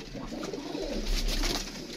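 Pigeons coo softly at close range, a continuous low burbling murmur lasting the whole short stretch, with faint higher rustles above it.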